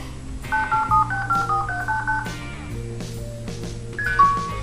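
Electronic beeps from the pressed buttons of a child's toy telephone, a quick series of short tones over a sustained melodic hum, with a louder chirp near the end.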